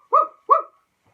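Two quick, sharp barks from a dog, close and loud, a short gap between them, then silence; the barks may be imitated by a voice in a farm-animal children's song.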